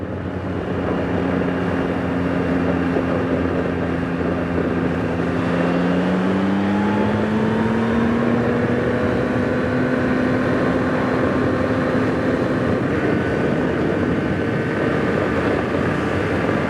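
A 2024 Yamaha MT-09 motorcycle engine pulls hard under acceleration while riding, a loud continuous drone whose pitch climbs steadily through the gears over steady wind rush, with no talking.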